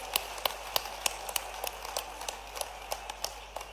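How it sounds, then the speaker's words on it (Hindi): Audience clapping to welcome Uttar Pradesh deputy chief minister Dinesh Sharma at a farmers' conference in Harda district, heard as sparse, distinct hand claps spread across the moment, fairly faint and without a full burst of applause. "ताली बजा के उनका अभिनंदन कीजिए"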